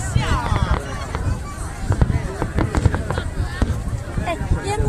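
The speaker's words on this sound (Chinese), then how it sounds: "烟火有颜色是因为他们有很多金属啊" A Lunar New Year fireworks show over Little Kinmen pops and crackles in sharp, irregular bursts at a moderate distance, while people chatter nearby throughout.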